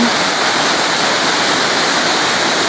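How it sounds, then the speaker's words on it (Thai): Tat Kuang Si waterfall near Luang Prabang, Laos, pours in a loud, dense, unbroken rush of falling water, close by and with no voices. "ผมมาอยู่ที่หลวงพระบางครับผมอยู่ที่น้ำตกตาดกงซีครับผม"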